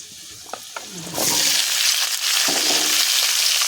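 Chopped onion and capsicum hit a hot pan and start frying: a few quiet stirring knocks, then a sudden loud, steady sizzle that carries on to the end.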